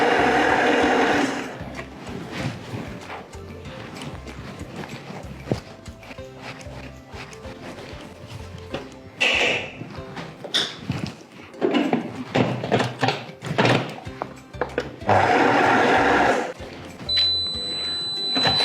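Magimix Cook Expert food processor stirring onions and ingredients sautéing in olive oil, rhythmic knocking and clattering of the blade with intermittent louder mechanical whirs, close and fairly loud.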